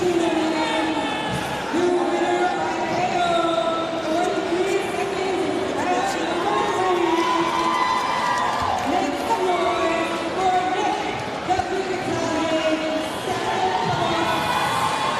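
A live fight-event crowd screams and shouts steadily throughout, a dense roar of voices with rising yells and cheers, loud and continuous.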